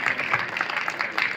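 Audience applause at a closing ceremony of a children's bird festival and prize-giving, a brief dense burst of steady clapping from a crowd, fairly loud and continuous.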